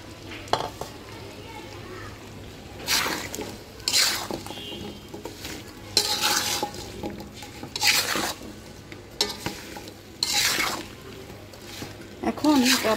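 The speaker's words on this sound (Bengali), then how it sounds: "তেল আর মশলা কষাতে কষাতে দিয়ে দিব কাঁচা আমগুলি।" Raw mango pieces for pickle are cooked in oil and spices in a pan, with bursts of stirring and scraping repeating every couple of seconds over a low, steady sizzle.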